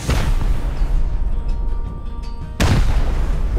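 Loud gunfire and blasts in the survival game Rust during an offline base raid, a dense burst of shots at the start, a quieter stretch, then another loud volley resuming near the end.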